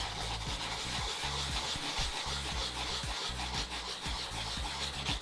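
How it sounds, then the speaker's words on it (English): Fine 400 grit sandpaper rubs a custom shoe in smooth circular strokes, a steady close scratchy swishing with a quick repeating rhythm throughout. "I'll rip a smaller piece of our 400 grit sandpaper, and I'm gonna start doing this in a smooth circular motion everywhere"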